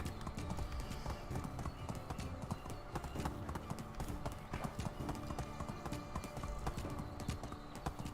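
Horse hooves clip-clop in a steady, quick rhythm as a rider travels in Medieval Dynasty, the even beats continuous and fairly faint over a droning game background.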